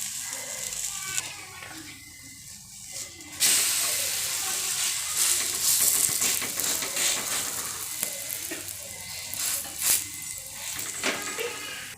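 Ragi and drumstick-leaf roti frying in sesame oil on a hot pan, a steady close sizzle with soft crackles and occasional stirring scrapes, growing louder partway through and continuing without talk.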